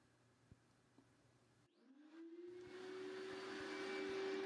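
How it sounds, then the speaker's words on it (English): A CNC machine's vacuum table switches on, a steady whining motor drone rising after a brief pause and settling into a loud, continuous hum with a rising tone. "I'm showing you this with the vacuum on."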